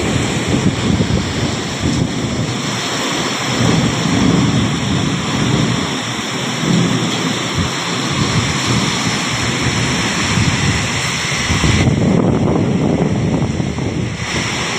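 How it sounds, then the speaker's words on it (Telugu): Heavy unseasonal rain pours down in a steady, loud roar with gusting wind noise across the microphone, continuous throughout and without any clear thunderclap or voices. "కొత్తపేట నియోజకవర్గంలో మంగళవారం అకాల వర్షం రావడంతో"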